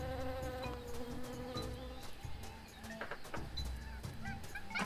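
Busy jungle ambience in the video game Tales of Monkey Island, a steady insect-like buzz of bees mixed with bird and animal calls and honking cries, continuous and fairly loud with no talking.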